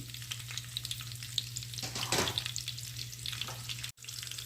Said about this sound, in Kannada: ಈಗ ಸ್ವಲ್ಪ ಮೆಣಸಿನ್ಕಾಯಿ ಎಲ್ಲ ಚಟ್ಪಟ ಅಂತ ಆಗಲಿ